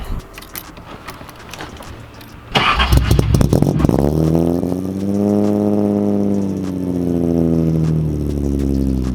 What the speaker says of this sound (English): A bit of a hyper cold start on the Datsun.